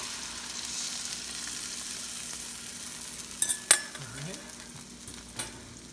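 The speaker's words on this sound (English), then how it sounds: "Now this is the right time to put our soy sauce and calamansi juice mixture" A soy sauce and calamansi juice mixture goes into a hot pan for milkfish steak, giving a quiet sizzle with a sharp clink and a few scraping stirs partway through.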